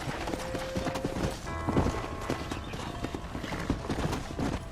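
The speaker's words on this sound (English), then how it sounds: "Hit your horse and wait for me by the stable." Steady clip-clop of horse hooves trotting along in Red Dead Redemption, with a brief whinny partway through, over a dense layer of game ambience and music.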